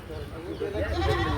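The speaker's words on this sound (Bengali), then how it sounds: "পুরো গাড়ি ভর্তি এই খাসি ছাগলগুলো নেওয়া হয়েছে" Goats and sheep crammed on a bus at the Neura livestock market in Comilla bleat in wavering cries under people talking.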